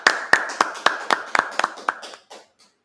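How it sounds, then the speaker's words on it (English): A congregation at a Sabbath service claps in a rhythmic series of sharp, evenly spaced hand claps that speed up slightly, then thin out and fade to silence. "Clap that up."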